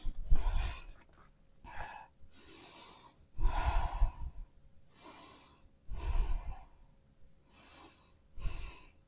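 Deep breaths during a vinyasa yoga forward fold, several slow exhales and inhales close to the microphone with quiet gaps between them, no talk.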